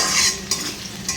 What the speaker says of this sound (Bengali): পেঁয়াজ ফোড়ন দিয়ে আলু দিয়ে দিয়েছি। আলু একটু ভাজা ভাজা হবে